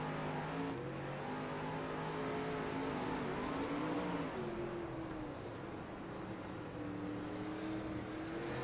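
Sprint car engines drone and rev together in an iRacing 360 sprint car feature race, a dense continuous roar with pitch rising and falling as the field circles.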